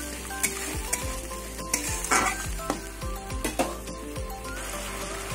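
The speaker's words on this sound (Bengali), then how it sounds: "এবার মশলাটা কিছুক্ষণ কষিয়ে নিই।" Spice masala with green chillies and ginger being sautéed and stirred in a pan for an aubergine yogurt dish, a steady close sizzle broken by repeated scraping stir strokes, no voices.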